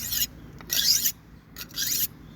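An old knife blade, never sharpened in 31 years, is drawn along a sharpener in three distinct rasping strokes with short gaps between them, close and clear with no talking.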